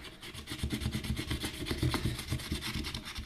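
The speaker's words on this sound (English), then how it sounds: "So basically all you want to do is rub down, clearing off" Motorbike brake disc from a Yamaha FZ1 being rubbed down with 800-grit wet and dry sandpaper to dull the clear coat, a steady rhythmic scratchy rasping of quick back-and-forth strokes, close and continuous with no talking.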